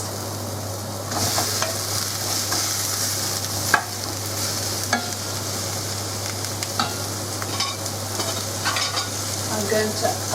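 Courgettes sizzle steadily in a hot pan while a utensil scrapes and stirs them in irregular bursts, with a low constant hum in the background.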